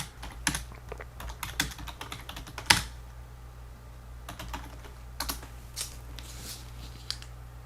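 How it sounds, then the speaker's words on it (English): Book title typed on a computer keyboard in quick, irregular bursts of soft clicking keystrokes with brief pauses, close and quiet over a low steady hum. "another cool way you can do with the search bar is actually type in the title"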